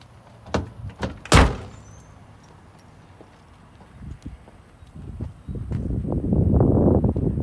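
Trunk of a 1970 Ford Mustang Mach 1 being unlocked and opened: a few light metallic clicks and a sharp latch clunk, then quiet, followed by rising outdoor rustle and handling noise close to the car.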